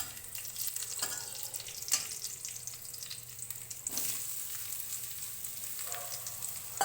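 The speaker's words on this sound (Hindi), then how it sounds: "जो कि मैंने ऑलरेडी उबाल रखे हैं, बस इनको थोड़ा सा मेरे को भूनना है।" Boiled potatoes and cumin frying in a pan, a steady close sizzle with a few sharp stir clatters alone, no talk.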